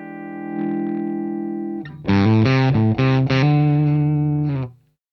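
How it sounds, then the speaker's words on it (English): Electric guitar played through a fuzz pedal, with a sustained distorted chord followed by several loud, harshly clipped strummed chords that cut off at the end. "So that's what I would call the introduction of fuzz. It sounds like an amp that is being pushed too far."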